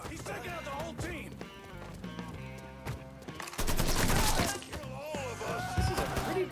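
Bursts of automatic fire from an AK-style rifle in the Mafia III video game, rapid rattling shots amid shouting voices and background music, with the loudest burst in the middle.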